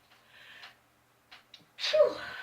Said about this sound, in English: Oh, sorry, I'm going to sneeze.